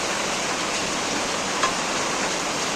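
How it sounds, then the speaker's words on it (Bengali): Heavy rain falling outdoors as a steady, dense, unbroken hiss that stays even throughout with no voices. "আজকে প্রচুর বৃষ্টি হচ্ছে"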